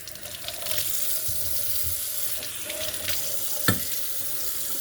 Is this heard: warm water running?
yes